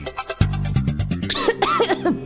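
A short burst of coughing, several rough throaty coughs in quick succession, close and fairly loud, trailing into a strained breathy vocal sound.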